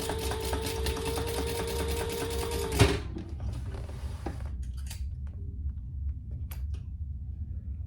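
A domestic sewing machine runs in a steady mechanical whir while basting a seam on a crossbody bag, then a sharp clack and the motor stops, leaving quiet handling noises and faint clicks.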